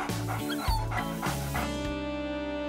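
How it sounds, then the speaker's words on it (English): A small puppy barks and whimpers close by, a few short yips and whines scattered over a couple of seconds with no talking. "You have the cutest puppy."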